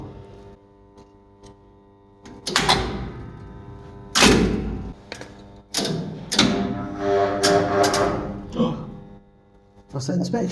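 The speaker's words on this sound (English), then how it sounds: "Let's open the door." A lift door in a mid-range express elevator slides and clunks open, with several loud thumps and mechanical rattles in bursts across about ten seconds, heard close.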